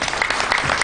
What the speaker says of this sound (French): On va applaudir donc le geste.